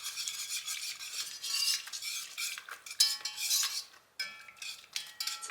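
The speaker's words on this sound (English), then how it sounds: "whisk it real well" Whisk working pectin powder into freshly squeezed orange juice with lemon peel for a rhubarb preserve, rapid scraping and clinking against the bowl in close, busy bursts with a brief pause partway through.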